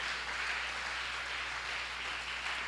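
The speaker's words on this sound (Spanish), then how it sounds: "Dale un aplauso al Señor en esta hora" A church congregation applauding together, a steady wash of clapping that stays fairly faint and distant for a few seconds with no voices over it.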